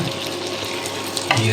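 Fried bhuna chicken masala is stirred and mixed in a hot pan, a steady close sizzle with scraping and stirring sounds, ending in a louder burst of frying.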